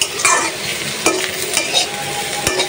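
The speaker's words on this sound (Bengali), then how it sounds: "আর একটু ভাজা ভাজা করবো," Bitter gourd stir-frying in a pan, with a steady bed of sizzle and several sharp spatula scrapes and clinks against the pan, close and moderately loud, no talking.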